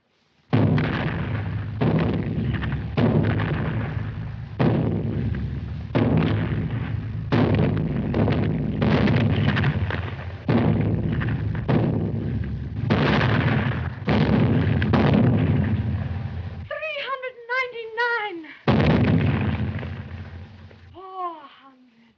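Cannon fire in a 1929 musical film: a long salvo of heavy booms, roughly a dozen evenly spaced blasts with rumbling tails, loud and close, followed by brief voices near the end.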